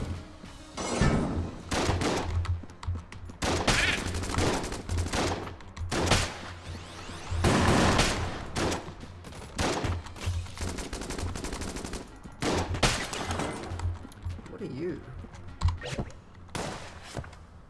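Bullet Shark gunfire in Enter the Gungeon, dense loud volleys of rapid shots in repeated bursts with short gaps, alongside mechanical game effects.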